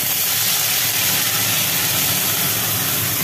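Salt-and-turmeric-coated fish pieces drop into hot oil in a wok and sizzle with a loud, steady, dense hiss that fills the whole moment. No one speaks.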